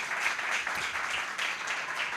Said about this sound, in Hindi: आए पुरजोर तालियों से यीशु का इस्तकबाल करें